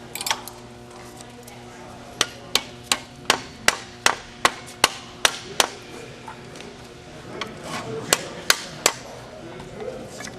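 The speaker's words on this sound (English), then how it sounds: "Sometimes I have to use a hammer" A hammer strikes a metal ring shank being shaped by a white smith, a quick series of ringing metallic taps at a steady pace that pauses and then resumes for a few more blows, close and clear.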